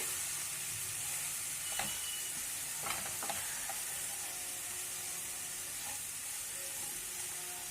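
Flattened rice with fried peanuts stirred in a hot pan, a few scraping strokes of a spoon over a steady sizzle and hiss, fairly close.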